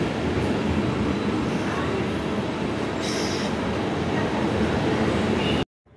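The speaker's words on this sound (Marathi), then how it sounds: "ट्रेन आली." A train pulls into a station with a loud, continuous rumble of wheels and carriages close by, a brief squeal midway, cutting off abruptly at the end.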